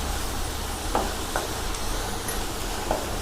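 Yam pieces being mixed with salt in a hot pan, a dense sizzle with occasional light scraping clicks, steady throughout and moderately close.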